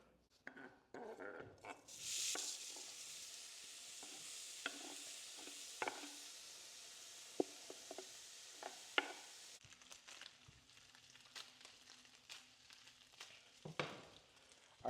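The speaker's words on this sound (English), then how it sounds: "while the pork is cooking up" Pork sizzling in a pan for burritos, a steady broadband fry hiss that swells around two seconds in, with scattered stirring scrapes and clicks throughout, no talking.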